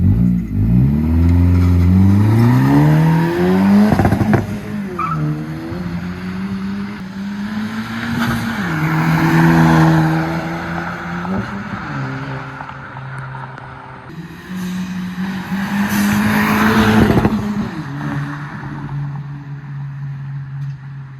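Honda Civic Si fitted with an MA Performance race exhaust driving by, its engine revving and droning loudly with rising and falling pitch as it accelerates and shifts, close and continuous throughout.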